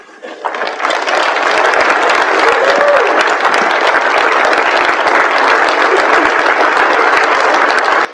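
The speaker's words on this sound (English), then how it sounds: "Everybody give Bobby a round of applause." Loud, sustained applause from a room full of people at an Alcoholics Anonymous Sunday spiritual renewal meeting in Savannah, Georgia. The clapping starts abruptly and stays dense and even for several seconds before cutting off.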